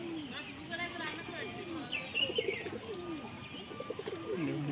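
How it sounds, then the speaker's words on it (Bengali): White short-bodied pigeons cooing softly nearby, low rolling calls mixed with a few chirps while someone talks over them. "পুরো শর্ট বডির পায়রা।"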